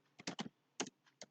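A few quiet, close computer-keyboard keystrokes tap out code in short irregular bursts, a quick cluster followed by scattered single clicks.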